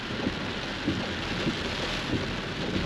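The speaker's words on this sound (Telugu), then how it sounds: "కొంచెం తగ్గింది వాన" Heavy rain pours down on a highway in China amid a traffic jam, a dense, constant roar with low rumbling swells throughout and no voices.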